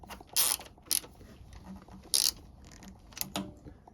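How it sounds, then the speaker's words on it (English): Screwdriver work on a Honda VTR motorcycle: a few sharp metallic clicks and ratcheting ticks, close and fairly quiet, spaced irregularly over a low background. "may as well just use the screwdriver"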